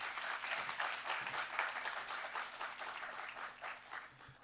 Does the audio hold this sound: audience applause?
yes